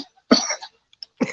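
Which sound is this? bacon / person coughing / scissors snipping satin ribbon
person coughing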